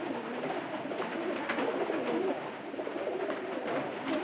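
Domestic pigeons kept by a fancier coo continuously and close by, their soft overlapping calls rolling on without pause and with no voices over them.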